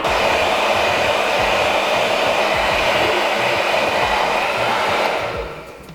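A heat gun blows hot air onto a car interior part on a Scion FR-S to loosen it, a loud, steady close whoosh that fades away at the end.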